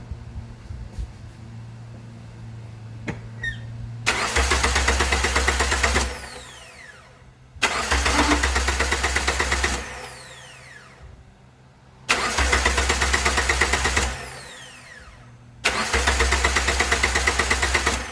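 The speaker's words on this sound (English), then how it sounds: "I'll show you the valve cover off and me cranking it" A 2006 Toyota Corolla XRS engine with its valve cover removed cranks over in four loud, sustained bursts of roughly two to four seconds each, separated by short pauses, with a faint background hum before the first attempt.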